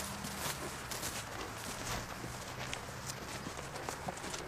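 A horse walks with a child in the saddle, its hoofbeats a soft, steady clip-clop under a constant outdoor hiss, close by and fairly quiet.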